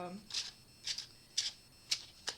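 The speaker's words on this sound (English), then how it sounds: "give another shuffle here, one more." A deck of tarot cards riffled by hand, five crisp shuffling bursts at an even, steady pace, close and fairly soft, with a brief hint of a voice at the start.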